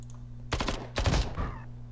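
Burst of gunfire from the turn-based squad tactics video game Templar Battleforce, a couple of loud rapid volleys over a steady electronic hum, trailing off into a fainter rattle.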